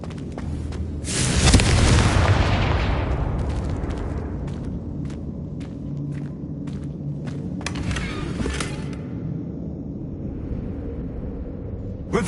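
A Confringo blasting spell from Hogwarts Legacy erupts in a loud, booming explosion near the start, with a rumbling tail that fades into a series of sharp crackling bursts and lingering low rumble.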